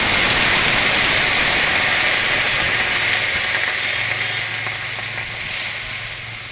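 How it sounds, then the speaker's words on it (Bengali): Water is added to a hot frying pan during home cooking, setting off a loud, steady hiss of sizzling that fades gently over several seconds, alone with no voices. "একটু জল দিচ্ছি।"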